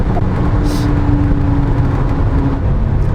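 Interior drone of an Audi 200 3B at speed on the road, a loud, steady engine and road roar with a faint whine, continuous throughout.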